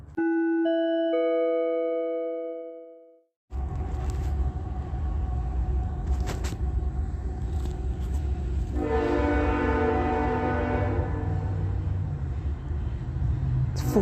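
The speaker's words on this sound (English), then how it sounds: "you hear the sounding of the horn of a train, engaging in what is an exaggerated use of that train horn" A train horn blows in long, loud blasts at night, repeated over and over with rumbling rail noise underneath and a sustained wailing burst partway through; no one speaks.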